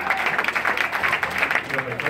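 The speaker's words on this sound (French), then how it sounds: "On applaudit nos poneys très fort." An audience at a live event with ponies claps steadily and loudly, the dense applause filling the room with voices mixed in.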